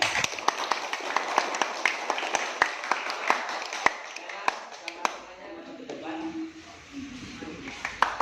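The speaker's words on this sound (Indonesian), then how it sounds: "tepuk tangan semuanya" A junior high class of students claps together after a Quran recitation, brisk scattered claps close by that thin out and fade as a voice begins speaking near the end.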